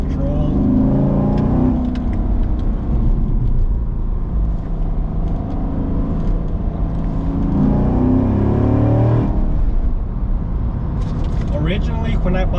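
Engine of a manual Corvette revving up and down through downshifts, loud and close, with rising and falling pitch sweeps and a steady rumble throughout.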